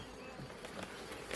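Honey bees buzzing around a hive, a soft continuous drone of many wings, faint and close with no talk over it.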